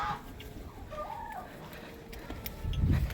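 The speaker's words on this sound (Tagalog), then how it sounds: "Yan yung mga manok natin, dalawa." Chickens on a small farm cluck softly at moderate distance over a steady outdoor background, with a short rising call in the middle and a louder rustle near the end.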